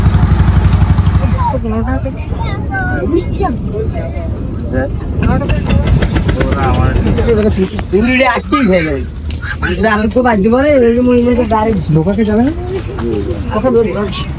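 A river trawler's engine chugs on the Kirtankhola river in Barishal as a steady low drone beneath a person talking close by.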